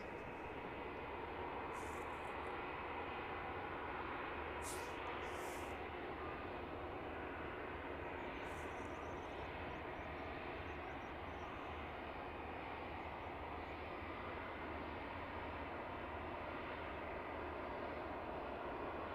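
A Wizz Air passenger jet from Budapest approaches to land at London Luton Airport, its engines a continuous distant roar that holds steady throughout.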